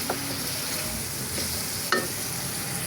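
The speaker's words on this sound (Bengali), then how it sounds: "চিংড়ি মাছগুলা ভুনা করে নিচ্ছি" Prawns sautéed bhuna-style in a pan give a continuous, fairly loud sizzle, with scraping stirs and a sharp spatula clack near the two-second mark.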